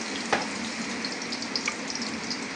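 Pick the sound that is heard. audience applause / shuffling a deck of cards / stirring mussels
stirring mussels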